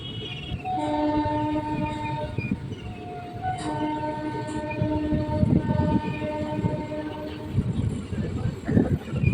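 A train pulls out of Kurmadanga station, its horn sounding in long sustained blasts over rumbling, clattering wheels that build steadily louder and closer, with a faint voice in the background.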